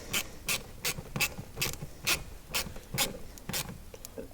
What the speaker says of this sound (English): So we'll just snug these bolts into place here.